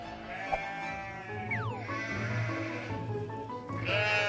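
Sheep in a field bleat several times, one clear wavering call standing out over a steady low background hum, fairly faint and without talk.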